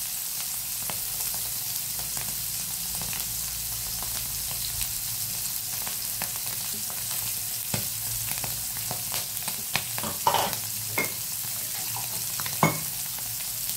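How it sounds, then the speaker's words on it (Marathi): Paneer tikka sautés in a pan with a continuous soft sizzle, broken by occasional scrapes and clicks of stirring, heard close up with no talking. "चांगलं परतून झाले बघा, तसं ते परततंय।"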